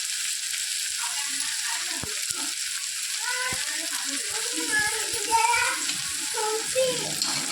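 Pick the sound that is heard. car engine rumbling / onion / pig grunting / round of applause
onion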